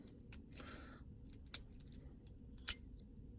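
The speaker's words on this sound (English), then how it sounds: "Again, you could hear those pins clicking into place." Lock pins clicking as a pick rakes a lock, a few sharp light metallic ticks spaced irregularly over quiet background, close and faint.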